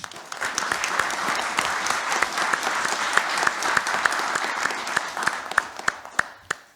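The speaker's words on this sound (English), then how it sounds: "he and his team deserve a round of applause" Applause from attendees at a town select board meeting, a sustained room-filling patter of clapping hands with sharper individual claps standing out near the end as it tapers.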